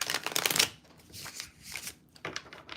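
A quick riffle of cards shuffling close by, followed by softer card slides and taps; no voices.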